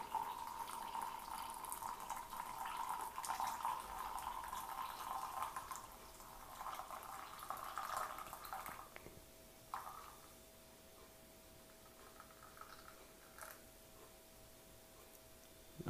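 Water trickles and pours steadily into an Aeropress coffee brewer over coffee grounds for several seconds, then thins to faint drips and quiet sounds; no talking.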